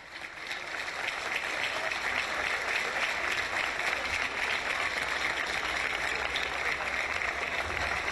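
Warm, sustained applause from a crowd at a women's U-18 softball championship opening ceremony, sending off the ceremonial flags, dense and steady with a low rumble underneath.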